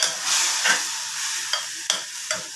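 Chopped onion and snake gourd sizzle and hiss in oil in a hot pan while a utensil stirs them, with a few scraping knocks against the metal.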